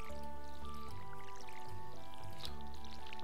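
Water splashes and trickles from a watering can onto crops in the Stardew Valley video game, a soft pouring sound that runs under steady tonal game music and ends with a brighter splash.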